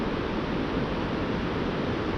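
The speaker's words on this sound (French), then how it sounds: "avec le ruisseau qui s'est transformé en gros torrent là" A stream swollen into a large, rushing torrent in a gorge along the Plazaola via verde between Leitza and Andoain, heard as a loud, dense, continuous roar of water with no voices.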